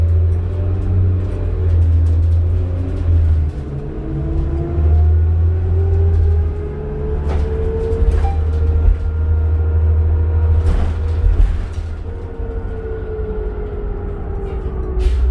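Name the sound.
2007 New Flyer D40LF diesel city bus ride, Calgary route 12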